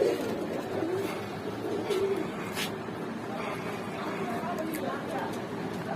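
Pet pigeons cooing at a pigeon seller's place in Rajshahi, soft low coos repeating under the sound of someone talking nearby.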